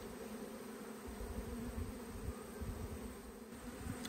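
Honey bees hum around an opened hive in an Australian backyard apiary in autumn, a steady, continuous close buzz that holds evenly throughout with no voices.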